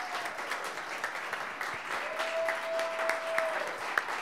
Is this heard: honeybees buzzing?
no